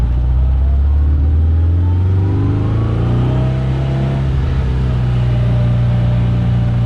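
The first Porsche, the 356-001 of about 75 years ago, drives along a road, its engine a steady, loud, close drone that rises gently in pitch as it picks up speed, with no voices.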